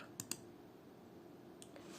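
A few sharp keystrokes on a computer keyboard tap out during 3ds Max modelling work, a quick pair near the start and a couple more near the end, faint and close with no talk.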